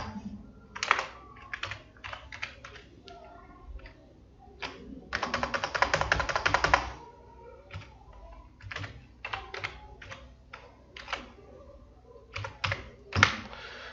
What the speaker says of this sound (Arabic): هبدأ اكتب كلمة المرور.